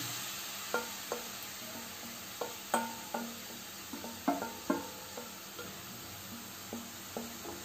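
Grated raw mango fries in about two spoons of ghee for raw mango jam, a soft steady sizzle punctuated by regular spoon taps and scrapes against the pan, fairly close and without talk.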